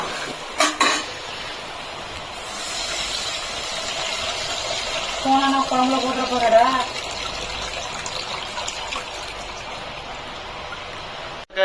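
Fish fries in a pan in a home kitchen in Bellary, India, with a steady, soft sizzle and the occasional clink of a utensil. People talk over the frying.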